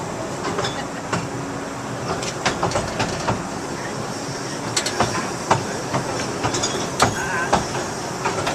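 Hersheypark's Dry Gulch Railroad amusement park train rolls along with a steady rumble, rhythmic clacking and sharp clicks from the track, and a faint hiss running underneath.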